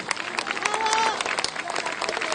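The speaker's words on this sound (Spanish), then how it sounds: "Recibamos a todos con un caluroso aplauso." A gala audience of the Vicuña dance school at the 2019 Elqui Carnival applauds the incoming dance performers with a brief burst of crowd clapping, busy and fairly close, with some voices and faint tones mixed in.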